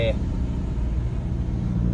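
A car drives down a long mountain road in low gear, its engine giving a steady, close, low drone that holds evenly throughout.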